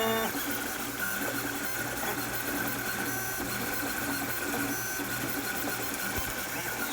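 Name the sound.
3D printer running a print job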